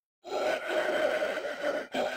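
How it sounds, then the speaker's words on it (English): A zombie's raspy breathing as an audiobook sound effect, a close, strained, wheezing exhale that drags on for about a second and a half before a brief catch and another breath. "he begins to hear sounds of raspy breathing"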